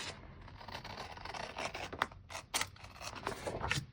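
Scissors trim a decorative sticker on a wellness tracker page, giving soft close snips and papery rustling at low volume, with a few sharper cuts near the end.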